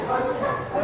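A puppy gives short yipping barks during off-leash training, heard close and mixed in with a person's speech.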